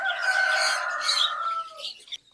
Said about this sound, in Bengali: এখানে কিন্তু আরেকটা আমাদের টাইগার মুরগি ডিম পাড়ার জন্য আসছে।